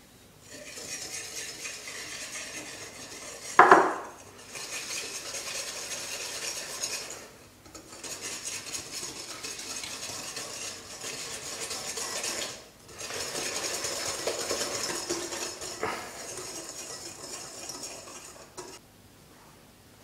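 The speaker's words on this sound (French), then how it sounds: "Après avoir battu et obtenu une mousse blanche comme celle-ci" Eggs and sugar are beaten into a white foam for waffle batter, heard as a steady whirring, rasping whisk in long bursts separated by brief pauses, with one sharp clink of the whisk against the bowl early on.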